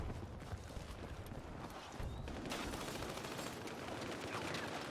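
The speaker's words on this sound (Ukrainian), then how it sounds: "Тут зверху, тут зверху в мене стріляються." Dense gunfire fills a Battlefield RedSec firefight, a continuous loud wash of shots and bursts with a sharper surge after the first couple of seconds, no voices heard.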